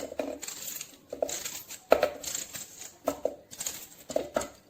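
Coarse chunks of onion dropping into a kitchen food chopper, a handful of light clinking taps scattered irregularly, close and fairly quiet.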